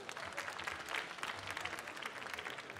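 A short burst of audience applause, steady clapping from a room full of people throughout.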